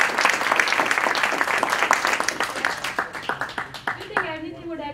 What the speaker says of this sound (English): I'd like to ask for a round of applause.